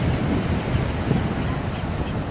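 Steady, loud wind roaring and buffeting across the whole clip at a Southern California beach, with a broad rushing noise and no clear voices.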